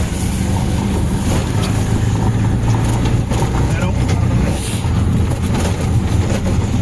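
Steady drone of a boat motor running close by, with wind and water noise and faint voices underneath.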